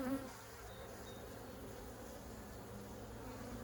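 Honey bees hum in a continuous, faint drone around a hive in a colony that is building fast, with no talking.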